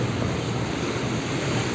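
Rough, high sea surging at a beach in Alexandria, a constant broadband wash of surf mixed with wind rumble, loud and close with no voices.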